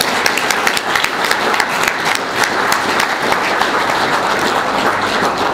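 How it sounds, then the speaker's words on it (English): An audience at a classic car club motorsport evening in Limerick gives a big round of applause, dense steady clapping from a crowd filling the room throughout. "we'll have to make a big round of applause for our 2 wonderful speakers, Rosemary Smith and Jim Gavin"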